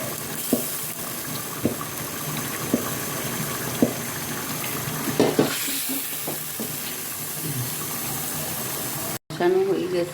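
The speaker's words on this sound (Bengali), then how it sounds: "দেশি মুরগি, আলু দিয়ে ভালো করে কষায় ফেলবো" Country chicken and potatoes stir-fried in a pan in a home kitchen, with a soft continuous sizzle under occasional scraping and tapping stirs, faint and close, plus a brief clatter near the end.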